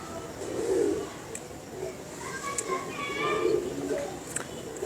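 Prized male pigeons, a rare fine breed kept by a pigeon fancier, give soft low coos in a few separate bursts, fairly near, with faint chirps and background noise around them.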